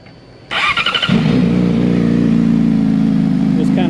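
A Yamaha R6 sport bike cranks over with a quick rapid starter whir, catches, and settles into a loud, steady, close idle with a buzzy mechanical tone.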